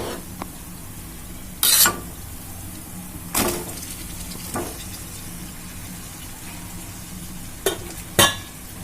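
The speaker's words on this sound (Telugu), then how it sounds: "ఇది కలిసేటట్టు అంతా కలుపుకుందాం." Boiled chicken being fried and mixed in a pan for a spicy chicken fry, a low steady sizzle broken by several loud, sharp scrapes and knocks of the spoon against the pan.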